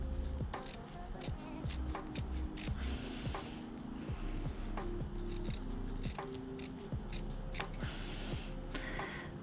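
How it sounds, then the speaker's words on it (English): Scissors snipping silk fabric close to a sewn hem, a series of crisp, close cuts and small metallic clicks in an irregular rhythm. "I cut very close to stitches"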